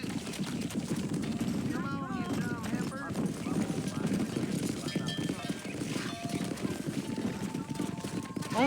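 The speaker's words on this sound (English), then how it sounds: "Come on, horsey, cooperate with me." Horse galloping in the Western video game Red Dead Redemption, hooves thudding steadily under a dense mix of game sound, with a voice talking over it and a brief whinny-like cry near the start.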